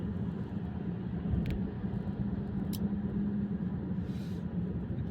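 Steady low engine rumble from inside a car moving through road traffic in the Gulf, continuous and fairly loud, with a couple of brief clicks and no talking.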